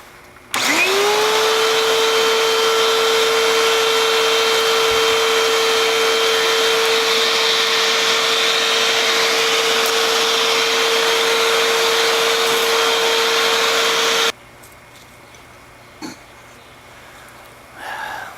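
A Hoover WindTunnel vacuum cleaner with weak suction switches on and runs at a loud, steady whine for about fourteen seconds, then cuts off, leaving quiet room noise and a few faint knocks.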